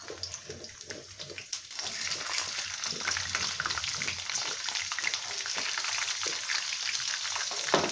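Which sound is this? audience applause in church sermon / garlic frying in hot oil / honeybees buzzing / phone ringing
garlic frying in hot oil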